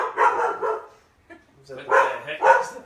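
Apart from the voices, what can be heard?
dog barking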